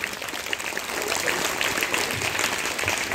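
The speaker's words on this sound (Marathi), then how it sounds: "जोरदार टाळ्या वाजल्या पाहिजेत." Loud, sustained applause from an audience at a school International Yoga Day 2024 event, dense clapping filling the whole stretch without pause.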